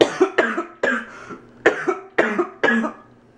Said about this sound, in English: I still have that cough that I somehow acquired during Hell Week.